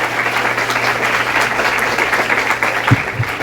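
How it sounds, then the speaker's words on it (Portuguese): A live audience applauds a guest at a panel discussion on racism on social media, steady broadband clapping filling the room for several seconds, with a couple of brief low thumps near the end. "E agora eu gostaria de pedir uma salva de palmas à nossa convidada da roda de conversa, Jamile Seco."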